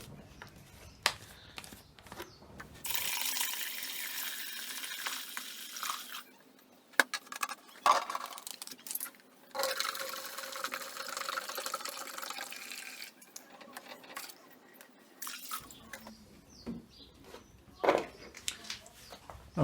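Water runs into a jug to mix coolant with antifreeze for an Alloy Fletcher John Cooper Works, a steady rushing pour lasting several seconds amid splashes and handling knocks, then stopping.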